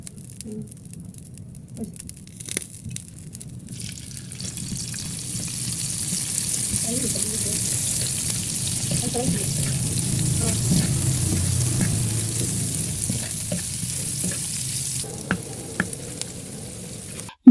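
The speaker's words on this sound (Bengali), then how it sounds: "ততক্ষণে পেঁয়াজের বেরেস্তা বানিয়ে নিচ্ছি" Sliced onions fry in hot oil for the crisp beresta topping of a beef biryani, a steady sizzle that swells louder through the middle, mixed with faint stirring and scraping.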